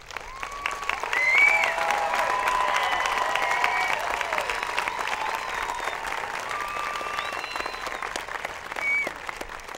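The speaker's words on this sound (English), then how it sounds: "I would like to ask you to give the students that are seated before you a round of applause" A graduation audience at Enfield High School's 2014 ceremony gives the seated graduates a round of applause, sustained dense clapping filling a large hall, swelling early then holding steady with faint cheers mixed in.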